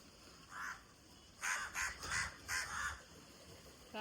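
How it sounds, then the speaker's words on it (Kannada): A crow caws near fish being cleaned: one caw, then a quick run of five loud, harsh caws close by against quiet outdoor background. "ಕಾಗೆ ಕೂಡ ಬಂದಿದೆ ಮೀನು ತಿನ್ನಲಿಕ್ಕೆ ನೋಡಿ."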